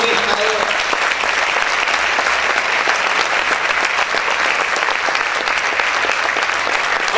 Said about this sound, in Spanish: Vamos a aplaudir fuerte al Señor en esta hora